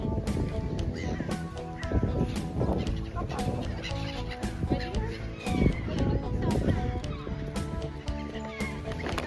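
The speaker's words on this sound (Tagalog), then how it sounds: "Daming ibon, no? Tingnan niyo yung mga ibon." A flock of birds clucks and calls continuously nearby while people chat over them, at a hidden spot near Oslo, Norway.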